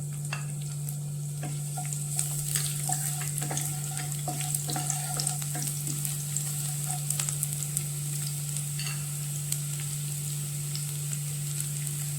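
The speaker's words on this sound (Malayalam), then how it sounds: "ചൂടായ നെയ്യിലേക്ക് വെളുത്തുള്ളി" Thinly sliced garlic fries in hot ghee with a constant sizzle, scattered sharp pops and crackles, and intermittent stirring scrapes over a low steady hum.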